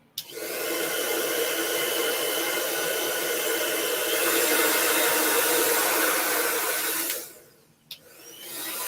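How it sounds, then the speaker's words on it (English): A handheld blow dryer roars steadily up close while drying fresh paint on a Halloween painting, holding a constant airy whoosh for about seven seconds before switching off, with a small clack afterward. "let me bust out my blow dryer and speed up the process"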